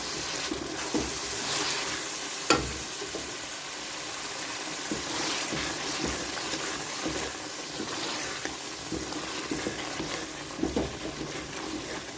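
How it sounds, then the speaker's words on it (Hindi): Minced beef and peas with salt and green chillies frying in a pan, a steady soft sizzle with scraping stirring strokes and occasional clinks throughout, no talking. "अब मैं इसको थोड़ा सा भूनूंगी"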